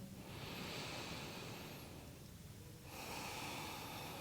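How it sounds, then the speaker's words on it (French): Slow nasal breathing during a floor yoga session, a long airy inhale, a brief pause, then another breath, close and soft with no talk. "prenez une respiration uniquement par le nez."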